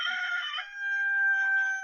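A rooster crows in a long, drawn-out call heard through a played video, fairly faint and steady with no talking over it.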